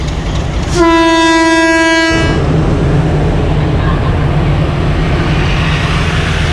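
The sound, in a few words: train departure horn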